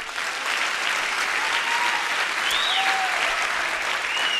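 An audience claps together in a sustained, even burst of applause, fairly loud and close, with a few faint whistles or squeaks over the top and no speech.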